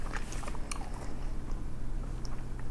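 Mouth sounds from eating a juicy rare ribeye steak with a creamy uni sauce: soft, close, wet chewing and biting with a few crisper bites over a steady low background hum.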